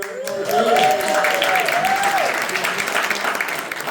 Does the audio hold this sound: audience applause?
yes